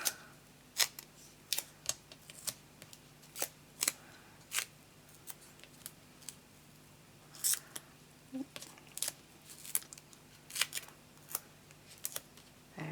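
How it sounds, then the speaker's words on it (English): Scissors snipping foam adhesive for a handmade scrapbook card, a series of sharp, close cuts in an irregular rhythm over a quiet room. "let me cut some foam off like this"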